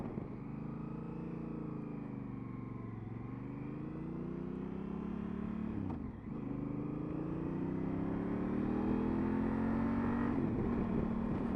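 A Honda CRF1000 Africa Twin motorcycle engine pulls hard under acceleration, its tone climbing steadily, dipping at a brief gearshift, then rising again with a loud sustained drone and no talk over it.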